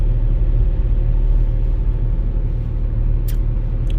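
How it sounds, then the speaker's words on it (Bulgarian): Trucks idle and move outside an Amazon warehouse in Germany, making a steady, loud low rumble of engines, with a brief high squeal near the end and no one speaking. "Виж само колко камиони това има."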